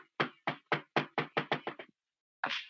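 A rapid run of nine heavy knocks bangs on a door during an emergency call, the blows speeding up and softening toward the end. After a short pause a brief louder sound follows, and no one speaks.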